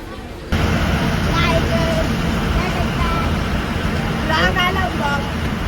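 A vehicle stopped in road traffic on the way to Pandharpur, unable to turn; a steady, loud engine and road rumble fills the whole clip, with a few faint voices in the background.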